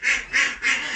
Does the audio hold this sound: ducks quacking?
yes